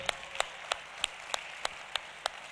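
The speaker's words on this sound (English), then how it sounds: "please stand up for applause." Applause at a product launch event in front of an audience, with several loud, sharp claps landing in a slow, regular beat over a soft clapping background.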